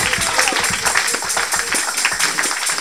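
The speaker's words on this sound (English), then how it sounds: "Oh, give another clap of faith to Jesus Christ." A church congregation claps together during a worship service, dense rhythmic hand claps with crowd noise and voices mixed in, loud and steady throughout.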